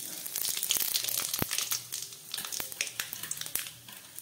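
Dried chili, mustard seeds and radhuni spice sizzle and crackle in hot oil, a steady close frying hiss broken by sharp pops and spits that grow sparser toward the end, with no talking.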